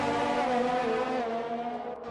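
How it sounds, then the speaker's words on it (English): Race car engines whine steadily in the Grand Prix 4 racing game at the Austrian Grand Prix, a loud, continuous high-pitched drone with shifting harmonics and no talk over it. "The hills are alive with the sound of engines."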